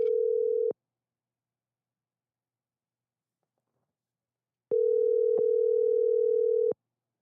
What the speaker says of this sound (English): let's call this number